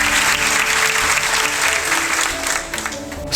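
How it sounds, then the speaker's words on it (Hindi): Loud, dense applause welcomes a farmer's son selected as a BSF clerk, a continuous burst of clapping with a steady background hum that eases off toward the close. "तो जोरदार तालियों से"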